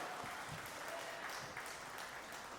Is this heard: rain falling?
no